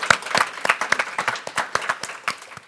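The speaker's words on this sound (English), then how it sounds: "So can you all give her a round of applause?" An audience at a talk on cycling in Copenhagen and Helsinki bursts into applause, a steady patter of many hands clapping close by for almost three seconds with no voices over it.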